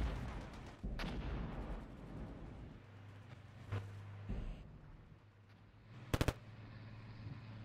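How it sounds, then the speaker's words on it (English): Grenade blasts and gunfire in the Cold War tank combat game Armored Brigade: a low rumbling battle bed broken by a few sharp explosions, with a tight burst of three loud cracks near the end. "Looks like they threw grenades."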